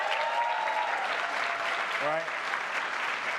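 An audience at a spring commencement ceremony claps in a sustained, even wash of applause while an introducer's voice briefly cuts through near the end.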